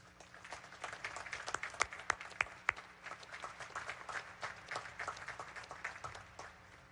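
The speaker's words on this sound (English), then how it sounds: "Please join me in recognizing and applauding these distinguished graduates." Applause for distinguished graduates at a Naval Academy ceremony, heard as a fairly faint, distant patter of many hands with a few sharper nearby claps standing out, continuing steadily throughout.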